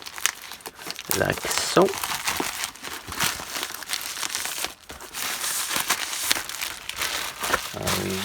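Shrink wrap packaging ripped open around a Corsair VS650 650W ATX power supply, a steady run of crinkling and tearing plastic close up, with brief speech over it.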